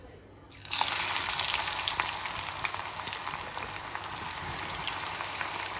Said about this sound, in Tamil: அது ரோஸ்ட் பண்ணி எடுத்துடலாம். பாருங்கள், வெங்காயம் ஒரு ப்ரௌன் ஷேடாக வேணும்.